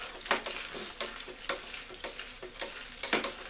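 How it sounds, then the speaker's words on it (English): Cooled beer wort being stirred on a brew day, giving repeated sloshing, scraping strokes roughly every half second, close and fairly quiet, with no talking. "We're stirring it up."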